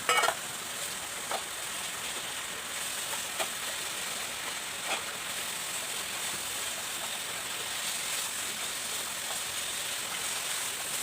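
A fish head fries in a pan with taro leaves, a steady close sizzle and hiss that runs continuously with a few small crackling pops.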